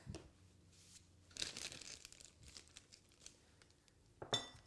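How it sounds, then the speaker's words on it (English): Soft crinkling of a plastic Ziploc bag with light scraping and tapping as candy melts are spooned in, quiet and close, ending in a sharper rustle. "So just spoon your candy melts into that Ziploc bag."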